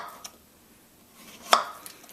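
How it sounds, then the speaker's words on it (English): A knife cuts a plantain on the diagonal into slices about half a centimeter thick, with a soft tap near the start and one sharp, close chop against the board. "we're going to go on a sort of a diagonal here and cut them about half of a centimeter"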